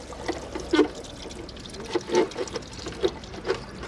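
Fresh water trickles and splashes from the round-headed drain valves of a Hymer Classic B654 motorhome, coming as uneven small pours and drips, close and fairly faint.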